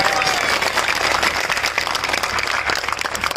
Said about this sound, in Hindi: ताली बजा लो जो लोग समझ गए।